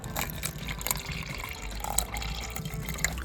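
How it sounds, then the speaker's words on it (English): Water poured into a tarantula enclosure's water dish, a close trickling and splashing stream with small drips and gushes throughout, fairly quiet and alone without talking. "I will pour the water in the enclosure to give some humidity."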